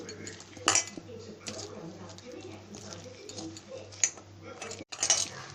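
Arum vada batter being mixed by hand with garlic and green chili paste in a bowl, giving soft wet squelching with scattered utensil clinks against a low steady hum, nearby and moderately loud.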